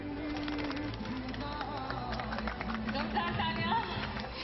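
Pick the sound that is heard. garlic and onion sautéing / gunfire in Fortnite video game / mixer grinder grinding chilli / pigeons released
pigeons released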